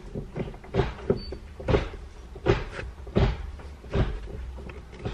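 A Volkswagen MK7 Golf manual gear shifter is worked repeatedly through the gears, giving a run of notchy clunks and rattling thuds, evenly spaced roughly every second and close up, with no talking.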